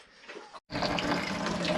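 Water runs from a kitchen tap into a basin at an off-grid home in Portugal, a steady broadband rush that starts up after a brief pause and continues close and strong.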